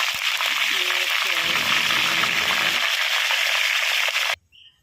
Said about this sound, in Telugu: ఇప్పుడు కరివేపాకు కూడా వేసుకుంటున్నాను